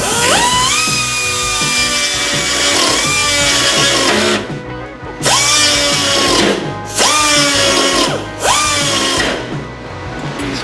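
Power drill widening a latch hole in the body of a 1952-1954 Chevy 3100 pickup during an Altman bear-claw latch install: loud whining bursts, about four runs with short pauses between, close up with no talk.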